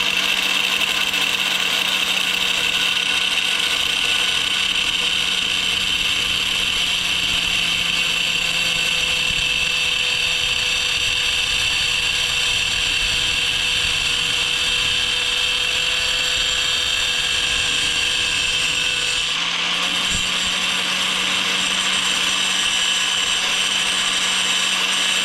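A power tool buzzes continuously at high pitch while cutting pieces off parts for a busted K100 door panel handle, a steady near whine with a brief dip around twenty seconds.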